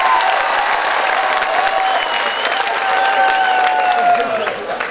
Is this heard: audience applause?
yes